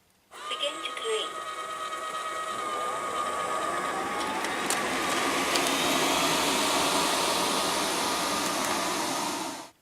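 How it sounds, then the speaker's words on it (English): Liectroux B6009 robot vacuum cleaner running over carpet scattered with crumbs, a steady loud whirring motor hum with brushing noise that starts abruptly and stops at the end. "let's see how well it vacuums them up"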